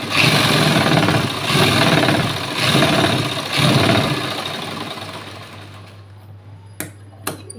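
Sewing machine stitching a seam on a button-front blouse, a loud rapid mechanical whir in several bursts that fades out, followed by two sharp clicks in near quiet.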